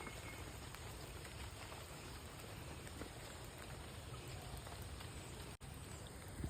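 Light rain falls in a steady, soft hiss that never changes over a Kerala village, with no voices and no other clear sounds.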